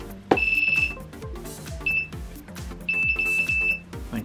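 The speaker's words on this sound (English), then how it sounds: "Save that, wait for the beeps." Several electronic beeps from a drone flight controller after saving settings, a long high tone followed by shorter ones with gaps between, over faint clicking tones.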